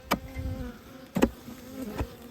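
Honeybees buzz around an opened, under-supered hive box holding nectar frames, a steady close drone with a few louder passes as individual bees fly near.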